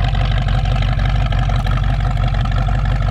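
A 1966 Ford Mustang GT idles close up through its newer trumpet exhaust, a loud, deep, steady rumbling burble with an even rhythmic pulse throughout.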